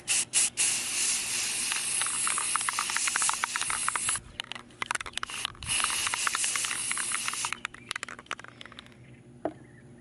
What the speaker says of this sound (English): I'm gonna spray a light coat of this flat white Rust-Oleum 2X.